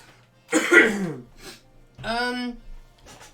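Two bursts of coughing and throat clearing, close and fairly loud, separated by a brief pause, with a faint third rasp at the end.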